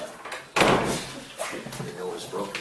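A door with a loose hinge closes with a loud slam and thud near the start, followed by the low clatter of the door settling while people talk.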